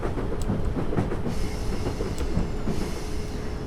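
A Class 455 electric train runs along the track in the Train Simulator 2014 game, with a constant rolling rumble, rhythmic wheel clicks over rail joints and faint high squeals.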